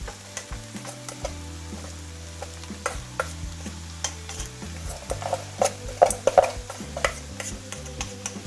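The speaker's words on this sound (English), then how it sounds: "Okay, now you can put in your rice." Cooked rice is stir-fried in a hot pan for Malaysian special fried rice, with a constant sizzle under repeated scraping and clinking strokes of a utensil against the pan, close and busy.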